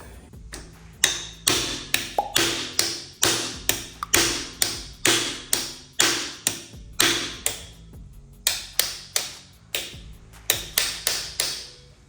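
A motorcycle bar end being knocked loose with a tool: a run of sharp metallic taps, roughly two a second, close and crisp, with a short pause partway through and no talking.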